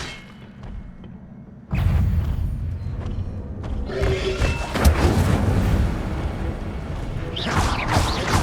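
An Incendio fire spell is cast in Hogwarts Legacy, a sudden whooshing burst of flame after a quiet start, followed by sustained roaring crackle with a couple of heavier thumps, loud and close.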